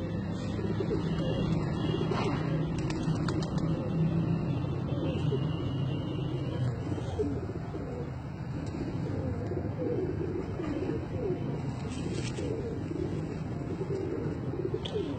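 Sialkoti breeder pigeons in Daska, Pakistan, coo steadily over a dense, continuous bed of bird noise, close and fairly loud for the whole stretch.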